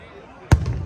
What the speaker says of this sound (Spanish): Empiezan los fuegos artificiales